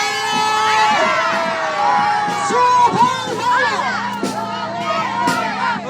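A crowd of supporters shouting a cheer together at an outdoor political gathering, a loud mix of overlapping excited voices and whoops that rise and fall without pause.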